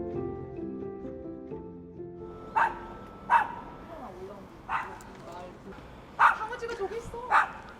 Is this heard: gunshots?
no